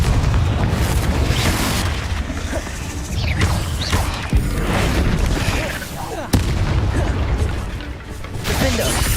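Spell blasts from Confringo and Bombarda go off repeatedly in Hogwarts Legacy, a run of booming impacts and crashes over a busy combat soundscape, loud and close with sharp hits around mid-clip.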